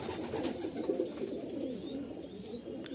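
A blood-line pigeon coos close by in soft, repeated low rolling calls against a quiet background.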